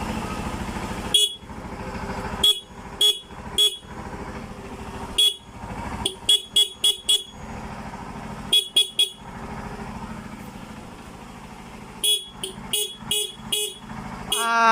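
Horn of a TVS Dazz 110 motorcycle honking in repeated short bursts, mostly pairs and quick clusters of toots, loud and close over a steady engine idle, with no talking.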